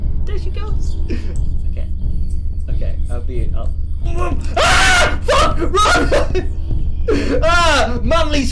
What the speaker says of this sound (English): Manly screams abound.